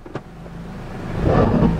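A 2008 Suzuki Swift GT2 automatic pulls away, its engine rising from a quiet idle to a louder low rumble as it moves off. A brief click comes near the start.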